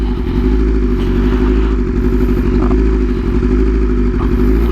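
A motorcycle idles and creeps along slowly with the clutch held in, a steady close low engine rumble with light clatter throughout and no speech.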